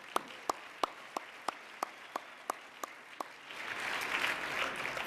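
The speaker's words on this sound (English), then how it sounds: "please just get another round of applause." At a fundraising dinner honoring Colonel Jack Jacobs, a single set of hands claps in a steady, evenly spaced beat, and then a fuller round of applause from the room swells in over the last seconds.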